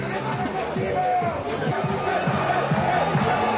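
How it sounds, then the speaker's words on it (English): Crowd at a strongman competition buzzing steadily with overlapping chatter and murmur, a dense continuous babble of many voices throughout. "And Leroy keeps the crowd a-buzzing."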